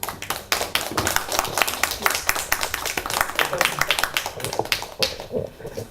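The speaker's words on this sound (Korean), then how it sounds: "우리 홍현익 박사님을 뜨거운 손뼉으로 모시겠습니다." Audience applause welcoming a lecturer, Dr. Hong Hyun-ik, to a humanities lecture in Ansan: a dense, steady patter of many hands clapping for about five seconds, then quickly dying away.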